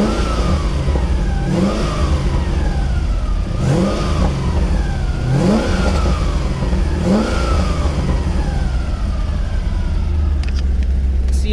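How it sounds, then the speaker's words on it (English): An FRC Corvette driving with a loud compressor whine like a Roots-style supercharger, repeated rising engine revs in waves over a constant roar, close and loud. "just try to listen to this whine. It almost sounds like a root style supercharger."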